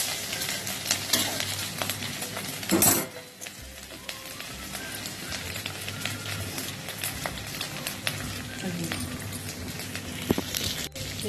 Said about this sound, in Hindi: तेल गरम हो चुका है, मैंने डाल दिया है कटा हुआ अदरक